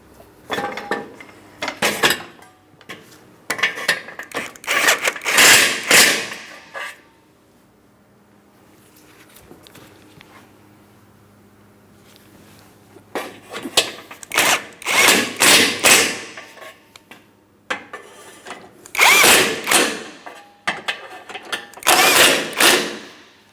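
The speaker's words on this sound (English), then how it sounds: "we're going to start tightening and torquing the bolts" A power tool drives the bumper impact absorber bolts on a 2003-2007 Cadillac CTS in several loud, close, rattling bursts of whirring and hammering, separated by short quiet gaps.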